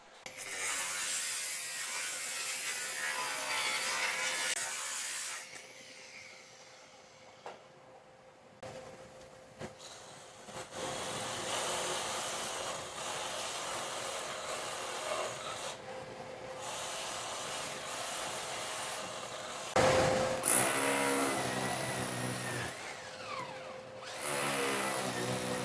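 A power tool grinds and rasps through Leca blocks with steel rebar inside, a rough, uneven cutting noise that surges and drops over about twenty-five seconds, fairly quiet with brief pauses and a harsher burst near the end.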